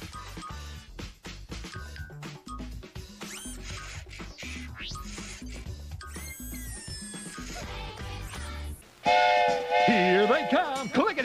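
Rhythmic mechanical chugging and clacking of a steam train with whistle tones, then a loud, sustained steam whistle blast near the end.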